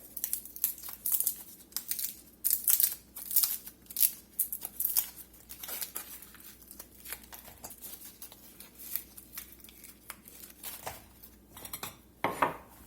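Fresh tomatillos tumble and knock into a metal colander in a kitchen, a run of close, irregular clattering and papery rustling bursts with short pauses between, no talking.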